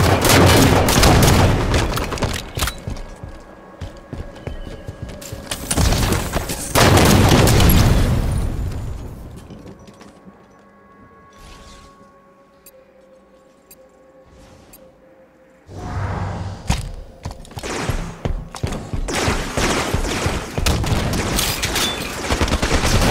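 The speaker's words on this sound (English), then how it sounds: "Rockets are up." Rocket explosions and gunfire in the Halo 5 matchmaking multiplayer video game on Xbox One S: heavy booming blasts and dense rapid gunfire bursts, loud and close, easing into a quieter stretch midway before the barrage resumes.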